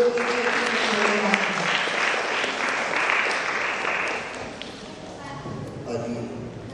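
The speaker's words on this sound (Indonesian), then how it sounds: "kita tepuk tangan dulu" Children and officials applauding at a city hall reception for young student health cadets, dense clapping at first that thins and fades out by the end, with some voices chattering underneath.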